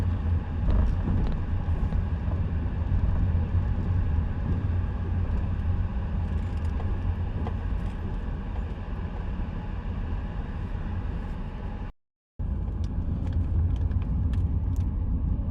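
Steady road noise and engine hum from a car driving along Jalan Hokkien toward the main highway in Miri city, a constant low rumble with wind, briefly dropping out to silence near the end before resuming.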